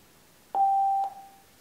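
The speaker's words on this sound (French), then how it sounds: "un petit bip pour confirmer que l'on est bien connecté" A Xiaomi Bluetooth Speaker 4.2 (model XMFHZ02) gives a single clear electronic confirmation beep on connecting, a steady tone lasting about half a second, sounding alone and fairly close in a quiet room.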